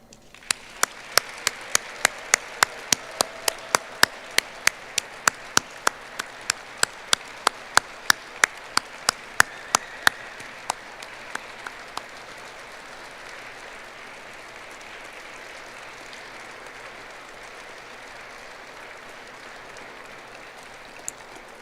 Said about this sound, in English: Please join me in a final round of applause for our newest group of flight test professionals.